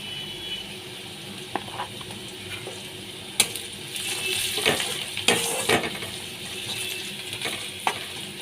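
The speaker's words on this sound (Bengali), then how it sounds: "পেঁয়াজগুলো লাল করে ভাজা হয়ে গেছে" Onions fry in a pan with turmeric powder, a steady close sizzle broken by sharp spatula scrapes and clinks against the metal, louder in the middle stretch.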